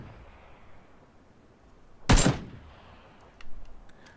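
A single sharp gunshot cracks out in a battle royale shooter, loud and close, with a short echoing tail, followed a moment later by a quieter distant thump and a few faint clicks.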